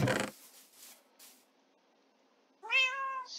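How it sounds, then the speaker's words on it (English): Pet cats in the video game Minecraft meow, a sharp noisy burst at the start, then faint soft sounds and a clear, loud, pitched meow near the end, with no talking. "Up here are my kitties."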